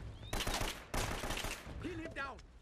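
Gunshots in an Uncharted firefight ring out in loud bursts, two dense volleys with a short gap, followed by a character voice calling out over the fading action.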